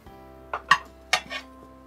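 A plate being served at home with cutlery, a few bright clinks and clatters of metal on ceramic, close and distinct against a quiet background hum.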